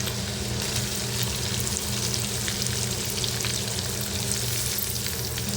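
Chopped onion sautéing in a pan with a ginger-garlic tempering for a Maharashtrian potato bhaji, a steady loud sizzle and crackle of frying with occasional stirring, no talking.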